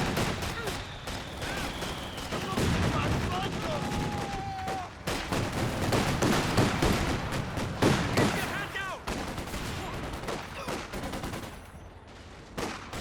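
Company of Heroes 2 machine gun laying down suppression fire: rapid sustained bursts and scattered gunshots in a busy battle, loud and continuous under other combat noise and brief game voice lines.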